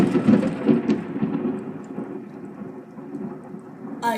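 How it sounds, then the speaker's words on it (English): Thunder rumbles low and heavy during a thunderstorm, fading gradually over a few seconds while steady rain hiss continues underneath; no voices. "Oh, I think the rain is calming down."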